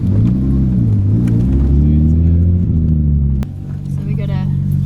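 A Nissan R32 Skyline GT-R pulling into a BP petrol station makes a loud, deep engine rumble that settles as it slows, and someone talks over it throughout.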